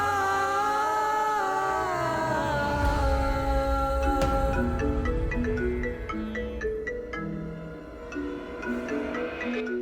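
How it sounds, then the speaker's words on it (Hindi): A phone rings in a Hindi TV drama scene, its melodic ringtone playing steadily for about ten seconds alongside layered music, loud and close. "विजया का फोन"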